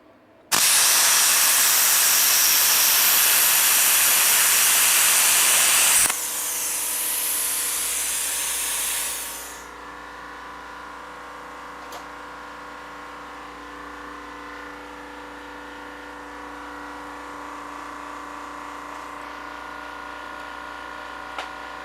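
BestArc BTC500DP Generation 3 plasma cutter slicing through metal, a loud, steady roaring hiss for about six seconds that drops to a softer hiss and then cuts out, leaving an air compressor humming on alone.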